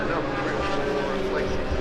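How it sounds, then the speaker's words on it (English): A 450 class racing kart engine gives a deep, steady buzz as it passes close by, loud and continuous throughout. "Hear the deeper buzz of his engine."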